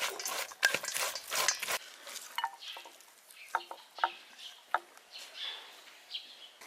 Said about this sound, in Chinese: 咱给它搅拌均匀